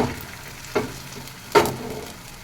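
Egg for a chicken roll frying in a pan with salt and turmeric: a steady low sizzle broken by two sharp scraping stirs of a utensil against the pan.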